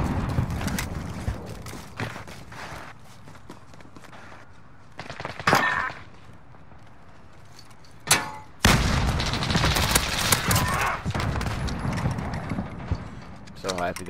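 Gunfire in Modern Warfare rattles in sharp bursts amid mechanical game noise, moderately loud, with people talking over parts of it.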